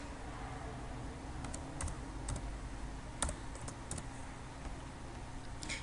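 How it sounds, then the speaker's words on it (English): Someone types on a computer keyboard, sparse quiet key clicks tapping irregularly over a steady low background hum. "I'm going to type not Ireland."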